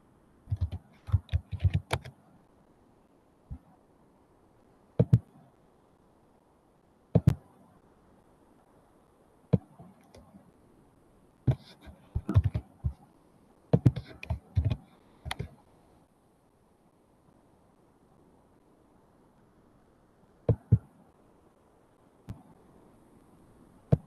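Bursts of clicky typing on a computer keyboard, entering an ID into a cybersecurity tool, come in irregular clusters of quick keystrokes separated by pauses, close and clear over a quiet background.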